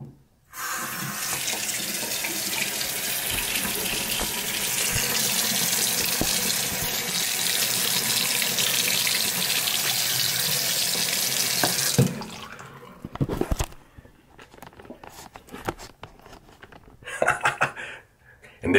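Tap water runs steadily into a sink onto a toothbrush, a loud close splashing stream for about twelve seconds, then stops, leaving faint clicks and handling sounds.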